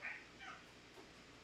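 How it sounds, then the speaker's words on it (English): A pet cat, just woken from sleep, gives a couple of faint, plaintive meows over a quiet background, with no one speaking. "my cat, Roast Beef, has just emerged from his slumber"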